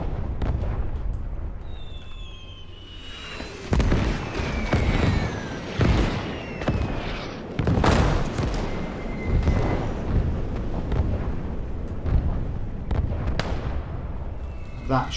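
Artillery shells burst in the WWII video game Call to Arms: Gates of Hell, a series of heavy booms and sharp cracks spread over a continuous battle din, with someone talking over the action.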